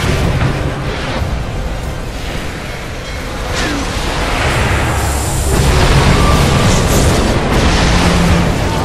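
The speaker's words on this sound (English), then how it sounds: "Dire's bottom tower is under attack." Battle noise in the Dota 2 video game as a tower comes under attack: continuous dense booming and explosive clatter of combat effects, loud and steady throughout with a slight swell near the end.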